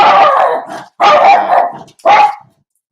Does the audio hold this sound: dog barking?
yes